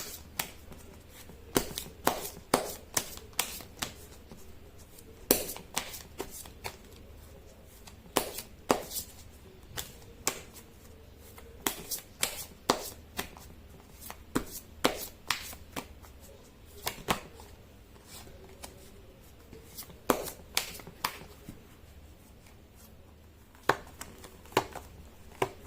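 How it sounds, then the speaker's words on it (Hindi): Tarot cards are shuffled close up in a quiet room, a long run of rapid, crisp riffling snaps arriving in irregular bursts with short pauses between. "कर लेती हूँ कार्ड की शफलिंग"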